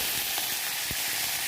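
Mustard seeds, cumin and curry leaves sizzling in hot oil for an idli sambar tempering, a steady bright hiss with a few faint pops and crackles, no voices.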